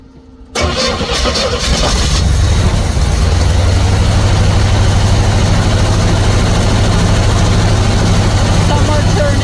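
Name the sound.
Pink Jeep engine running after reassembly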